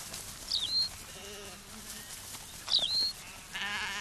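Thick-fleeced sheep bleat outdoors in late summer, two distinct calls a couple of seconds apart at moderate distance, with faint ambient background and a soft rustle near the end.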